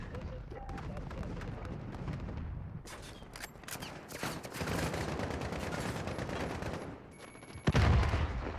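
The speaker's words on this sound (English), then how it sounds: "The EVR has some recoil to it." EVR rifle gunfire in the Modern Warfare beta's Ground War mode: sharp, loud shots and clattering battle noise spread across the clip, with a heavy blast near the end and surrounding battlefield din.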